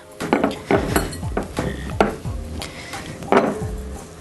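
Matcha energy bite mixture being mixed in a bowl for a no-bake vegan recipe: irregular clinks and scrapes of a utensil against the bowl, several sharper knocks among steady stirring, close and fairly loud, with no talk.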